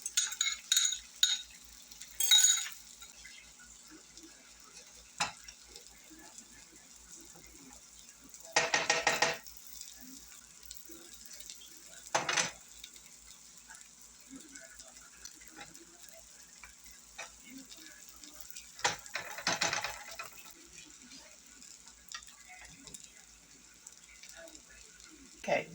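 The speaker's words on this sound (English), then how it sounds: "once you get all that egg so that it's spread thin enough that it's going to cook right up" An egg omelet cooks in a frying pan with a faint sizzle. A spatula scrapes and taps the pan in a few short, louder bursts spread through long quiet stretches.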